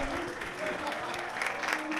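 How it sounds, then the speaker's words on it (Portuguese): Audience applause from a live comedy crowd, steady broadband clapping filling the whole stretch with a slight swell near the end, fairly close and moderately loud. "Um enorme salve de palmas para Ruben Balu!"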